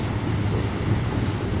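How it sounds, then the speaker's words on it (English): A long train rolls past close by, a steady low rumble of wheels and cars grinding along without pause for the short stretch. "this is a long train"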